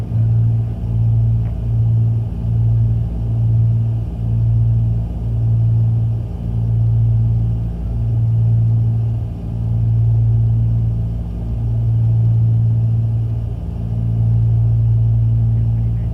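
The twin engines of a Cessna 310 drone steadily in flight with prop sync on, a deep, even hum with a slow rhythmic beating that pulses throughout, no voices over it.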